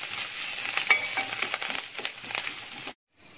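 Coconut pieces, dried chillies and curry leaves sizzle and crackle steadily in hot oil in a pan for a kerala-style chicken roast, with light stirring clinks, then cutting off abruptly.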